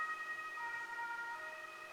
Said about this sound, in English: Yeah, okay, ambulance, pass by.